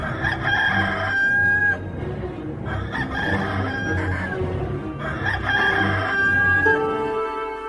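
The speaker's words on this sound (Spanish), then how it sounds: "el gallo cantó." A rooster crows loudly and close in a dramatized Bible passage, two long drawn-out calls separated by a short pause, with some clucking mixed in and no speech over it.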